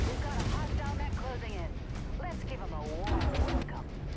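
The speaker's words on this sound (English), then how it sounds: "let's see how your clan machine guns work" Clan machine guns fire in MechWarrior 5 as a loud, continuous rumbling barrage of rapid shots and heavy mech noise that runs throughout, with someone talking over the gunfire.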